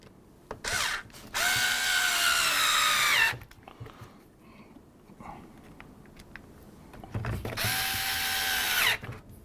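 Power screwdriver driving screws into a Umarex AirJavelin CO2 air rifle during an HPA adapter install, two long whirring bursts with a quiet pause between them, close and loud.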